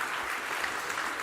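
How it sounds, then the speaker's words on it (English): A conference audience applauds in a brief, even patter of many hands clapping, heard at moderate distance. "I'm happy that you're applauding"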